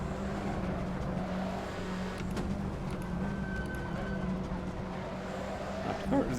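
Race cars, including a Fiat Tipo, driving at Calabogie, a continuous engine drone with rising and falling tones as cars run close together, with someone talking over it.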